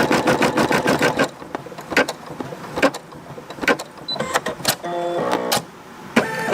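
Embroidery machine stitching a patch, with bursts of fast rhythmic needle clatter at the start, then intermittent clicks, short mechanical whirs and beeping tones, heard close and without talk.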